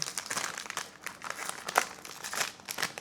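A vanilla cocoa wafer snack from the Balkans has its plastic wrapper torn open, giving close, continuous crinkling and crumpling with a few sharper rustles over about three seconds.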